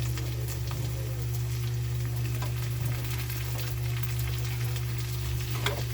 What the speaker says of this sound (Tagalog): Igisa muna natin siya sa mga panakot mga idol bago natin ilipat sa pressure cooker.